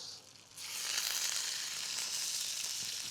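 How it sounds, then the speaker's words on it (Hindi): Dumplings searing in a pan of hot oil for a New Zealand Māori soup, a bright steady sizzle that flares up loudly after a brief quieter moment and holds close and continuous. "और dumplings को अच्छे से sear कर लेंगे हम."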